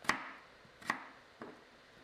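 A knife chops vegetables for pickle into layers, landing three crisp, separate strikes on a cutting board, close and fairly faint, with quiet pauses between them.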